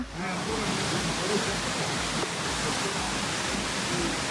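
Water runs down a hillside walking path, a continuous, fairly loud rushing and splashing wash that stays even from start to finish.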